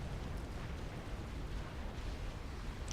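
Heavy explosions roll out as a strategic bomber destroys anti-air turrets near a Tech 2 naval factory in Supreme Commander: Forged Alliance, forming a dense, continuous low rumble that stays steady throughout.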